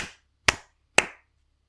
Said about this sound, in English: When the music stops, I'm going to clap a simple rhythm like,